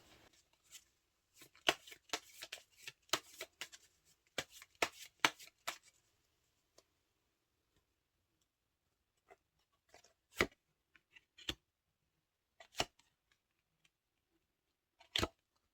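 Tarot cards are riffled and shuffled in a quick burst of soft, close papery flutters, followed by a few isolated crisp snaps as single cards are drawn in a quiet room.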